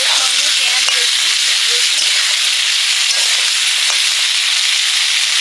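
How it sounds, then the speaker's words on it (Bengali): Malabar spinach stalks fry in hot oil with onion and garlic, giving a loud, continuous sizzle and hiss with occasional stirring clinks, no talking. "পুঁই ডাঁটাগুলো তেলে কষে নেব, পেঁয়াজের সঙ্গে, পেঁয়াজ রসুন"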